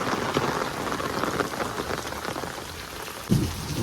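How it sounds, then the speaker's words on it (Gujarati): A downpour hammers steadily on nearby surfaces at a farm, a thick, even wash of rain with a sudden louder splash near the end. "ફૂલ વરસાદ છે મિત્રો જોઈ રહ્યા છો"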